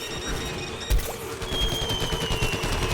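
Rapid gunfire and a booming impact from an airstrike in a video game, with a rattling fusillade running throughout, a sharp heavy hit near the start and steady shots after it.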